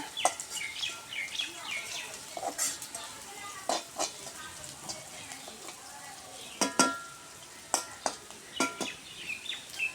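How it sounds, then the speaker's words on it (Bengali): Onions frying in a pan with a soft crackling sizzle, broken by sharp clicks and scrapes of stirring, plus faint chirps of birds somewhere in the background. "পেঁয়াজ আমাদের ভাজা ভাজা প্রায় হয়ে গেছে"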